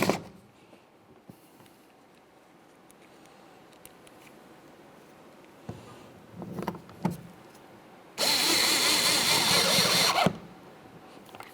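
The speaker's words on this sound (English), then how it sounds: "continue on with our 2 Phillips head screws" A power screwdriver drives Phillips head screws into a 2005-2010 Chevrolet Cobalt door panel: scattered quiet clicks and handling knocks, a few louder clunks, then a steady two-second motor whir, near and alone.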